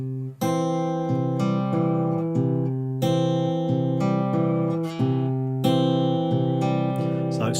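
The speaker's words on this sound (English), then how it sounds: "Next one is another pattern with a pinch, and this time we're moving the pinch to beat 2," Fingerstyle guitar pattern alternating single bass notes with pinched pairs of strings landing on beat 2, plucked in a steady repeating rhythm, close and clear with no voices.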